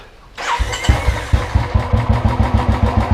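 A motorcycle engine with a misfire cranks and fires up, settling quickly into a loud, close, rhythmic idle with steady thumping pulses.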